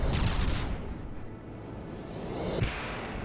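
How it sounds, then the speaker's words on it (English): A missile salvo fires in the From the Depths naval combat game: a loud, dense rushing roar with heavy low rumble that swells at the start, dips, then surges again with a sharp onset partway through, continuing steadily to the end. "as soon as he's fired off missiles, we'll fire off our defense missiles. And we stop that salvo. Let's fire again."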